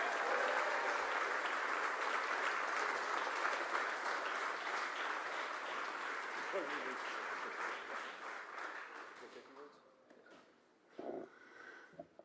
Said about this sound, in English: Give a round of applause for Ted.